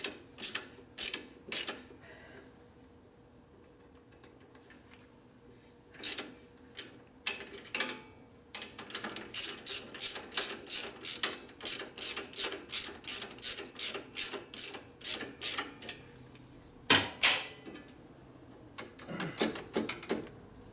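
A short socket wrench ratchets on a transmission bolt of a 1967 Harley-Davidson 74ci Shovelhead FLH, rhythmic bursts of crisp, close clicks in repeated strokes with pauses between, no talk.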